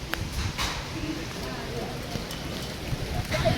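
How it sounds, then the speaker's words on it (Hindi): Hail falling in Delhi, a dense patter of ice pellets striking surfaces with scattered sharper clicks, steady throughout and fairly close, with faint voices in the background. "देखो पड़ रहे ना, ओले पड़ रहे."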